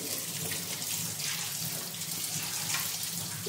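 Running tap water splashes steadily while idli plates are washed underneath it, a close, continuous hissing gush with faint clinks, and no one speaks.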